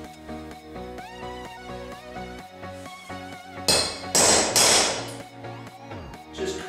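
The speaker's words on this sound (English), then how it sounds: "It just needs to smack it on the top with a hammer" A hammer strikes the top of a small hole punch to mark drill spots on a pinball playfield rotisserie build, giving a couple of sharp broadband knocks that stand out over steady background music.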